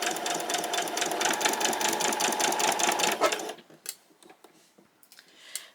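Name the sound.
sewing machine stitching fabric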